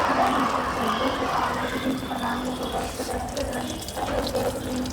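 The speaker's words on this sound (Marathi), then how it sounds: "पाय धुवायचं म्हणजे पायावर पाणी घ्यायचं" Water poured over bare feet for washing at a temple entrance, a steady splashing and rushing flow running close by for several seconds with faint background voices.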